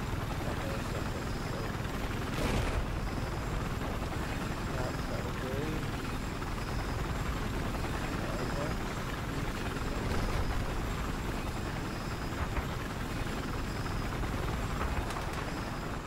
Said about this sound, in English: Here we go, I'm in the helicopter.